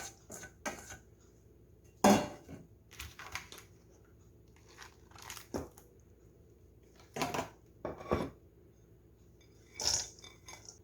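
Ingredients for Korean dongeurangttaeng patties are tipped into a large mixing bowl, giving scattered close clinks, taps and rustles in irregular bursts, with one sharp clatter standing out among them.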